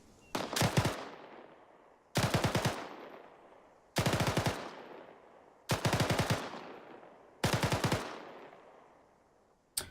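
In Arma 3 gameplay, an M249 machine gun fires short automatic bursts of a few rounds each. There are five sharp, evenly spaced bursts roughly two seconds apart, each followed by a fading echo tail. A sixth burst begins at the very end.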